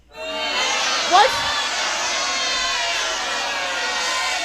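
A large crowd at the end of a UFC fight in Las Vegas swells into a sustained, loud mass of voices that rises quickly and holds steady, with one brief louder shout rising above it.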